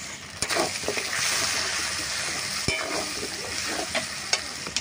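Tomato and chilli powder masala fries in a pan for a tuna fish curry, with a continuous close sizzle and regular scraping stir strokes, and no voices.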